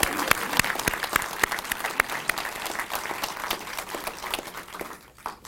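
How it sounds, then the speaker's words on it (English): Audience applause at a press conference for an age-friendly city initiative, a steady burst of many hands clapping close by that thins and fades toward the end. "we should clap for her"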